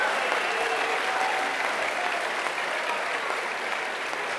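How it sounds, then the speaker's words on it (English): A graduation crowd at a middle school eighth grade promotion claps steadily for the school staff, a dense, loud, even wash of applause sustained throughout with no voices over it. "I want you guys again to give all of the staff members your heartiest thanks and applause"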